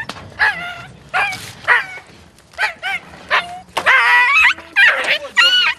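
A rescued puppy, cold and trembling, gives a string of high whimpers and sharp yelps in short bursts, close and loud, rising into longer whining cries near the end.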